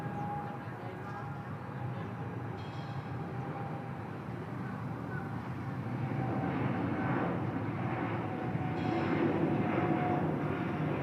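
An airliner, one of a group of Boeing 777s, lands at Bangkok airport, heard as a steady broad engine roar that swells slightly and stays loud, with faint talk mixed in underneath.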